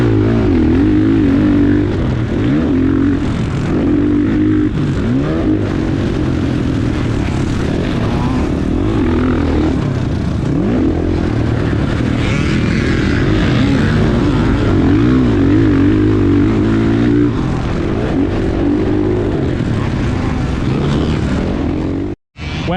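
Several motocross bikes roar around an Ohio dirt track during speed practice, their engines blending into a loud, steady, continuous drone that rises and falls slightly and never lets up.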